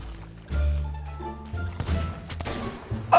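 Sniper rifle shot in Sea of Thieves on a pirate ship, a sharp crack among thumping impacts and clattering game noise, with a few loud hits bunched near the end.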